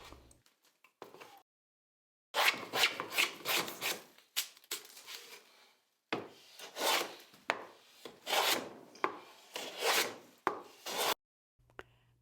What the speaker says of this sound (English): Take short, quick strokes and also change direction if necessary because the grain typically changes many directions across a knot.